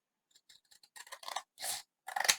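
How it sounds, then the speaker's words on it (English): Scissors snip through paper for an altered book, a quick run of faint clicks building into several louder, crisp cuts close up, with no talking. "So I am going to have to use my scissors."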